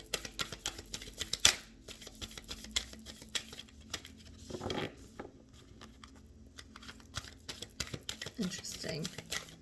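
Tarot cards are shuffled and riffled close up in quick, soft flicks and pattering bursts during a reading, with light ticking card handling throughout.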